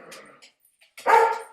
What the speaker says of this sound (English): my dog may get loud, and he's a member of my pack